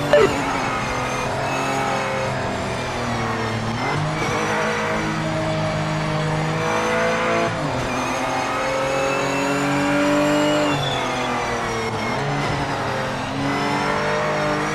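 Race car engine in the Project Motor Racing video game, a loud continuous high-revving drone that rises and falls through gear changes over the whole stretch, with no talk.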